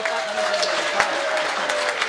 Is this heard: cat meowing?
no